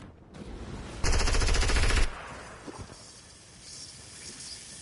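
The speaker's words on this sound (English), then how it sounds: "Someone shot me from the soccer field, I think." Gunfire in a Fortnite match, a one-second burst of rapid automatic shots, loud and close, then fading to quieter background game sounds.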